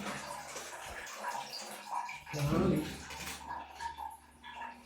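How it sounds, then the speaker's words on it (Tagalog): Water running from a tap indoors, a fairly soft, continuous splashing stream that swells briefly louder midway, with faint voices in the background. "Patayin lang natin tubig dito."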